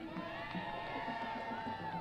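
A parade crowd at a Veterans Day Parade cheers and shouts a big thank you, a steady wash of voices and whoops held at moderate distance for the whole stretch.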